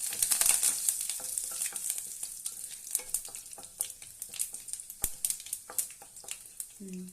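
Spices and curry leaves crackle and sizzle in hot oil as tempering for amla pickle, with bright popping bursts and a steady hiss throughout, close up.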